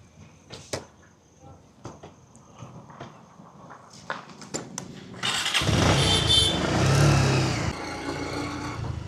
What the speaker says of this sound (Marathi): चला आता बाईक काढूया आणि निघूया मिरजेला